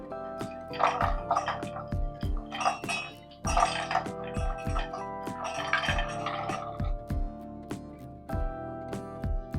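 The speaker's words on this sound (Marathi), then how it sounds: "चला तर मग मिक्सरच्या भांड्यामध्ये काढून घेऊया" Roasted dry fruits tumble into a steel mixer jar for spiced masala milk, making a rapid run of sharp metallic clinks and rattles that come in close, uneven bursts.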